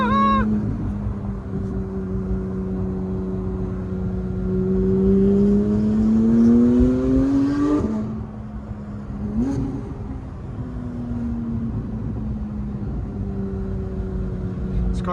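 A straight-piped Porsche GT3 engine drones under load, its pitch climbing steadily as it accelerates, dropping sharply on a shift and then rising again, loud and close throughout.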